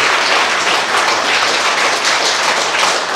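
Audience applause after a lecture at a healing camp, dense steady clapping from a crowd that fills the whole stretch without a break.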